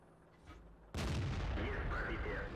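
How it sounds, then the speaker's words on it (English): A T62A tank cannon fires in World of Tanks, a sudden loud blast that cuts in after a quiet start and rolls on as a sustained booming rumble with battle noise. "he's using the fantastic rate of fire on the T62A"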